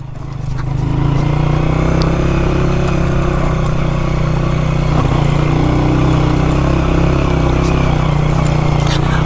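A motorbike climbs Badgoi Pass on the rough mountain road from Kalam to Kumrat in first gear, its engine droning loud and steady under strain for the whole stretch, close up, with rushing wind mixed in.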